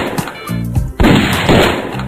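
AR-15 style rifle gunfire in a Newgrounds browser game, Skull Kid, with several loud, sharp shots and bursts spread through a short stretch, heard alone without talk.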